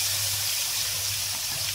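Boondi batter for motichoor ladoo drips through a perforated strainer into hot ghee, giving a steady, loud, continuous sizzling hiss with no pauses.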